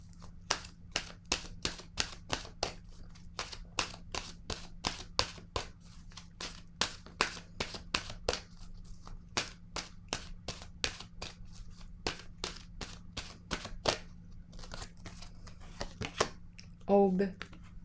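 Oracle cards are handled in a long run of crisp, sharp clicks and flicks at a steady, quick pace, close and fairly quiet, with a brief voice near the end.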